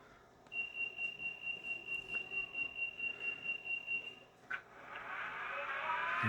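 An N scale Rapido Amtrak Turboliner (RTL) model train with a DC/DCC sound decoder runs its motor start-up sequence. A steady high whine pulses rhythmically for a few seconds, then gives way to a swelling, rising turbine roar.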